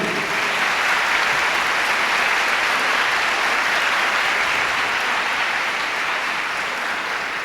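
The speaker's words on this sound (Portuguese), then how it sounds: "Pode aplaudir" A congregation claps after a Bible reading, sustained, even applause from a large crowd that fills the room for over seven seconds without a break.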